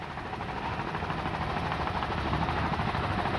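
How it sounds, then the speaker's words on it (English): Helicopter flying over the 1995 Miami Beach Grand Prix powerboat race, a loud, steady rotor chop with engine roar filling the recording, and no voices. "As our helicopter swings by there,"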